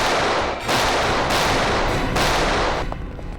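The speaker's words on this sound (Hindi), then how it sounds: "Firing range." Loud, close gunfire at a firing range rattles out in three or four sustained rapid bursts with short gaps, then stops abruptly.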